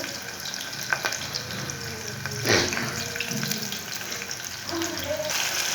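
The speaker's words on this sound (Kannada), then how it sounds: "ಇದು ಈರುಳ್ಳಿ 1-2 ನಿಮಿಷ ಫ್ರೈ ಆಗಲಿ" Onions fry in a pan with a quiet, continuous sizzle, marked by occasional scraping stirs and a brief louder rush partway through.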